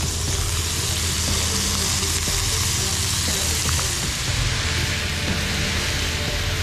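Black trumpet mushrooms and garlic fry in a pan with a loud, continuous, even sizzle close by, with a few faint stirring clicks and no voices.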